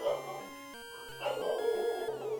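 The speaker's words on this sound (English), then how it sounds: "Riolu's using Howl." Riolu using Howl in a Pokémon video game battle, a short electronic cry made of stepped, tonal chiptune notes that rise and fall over a couple of seconds, moderately loud and alone.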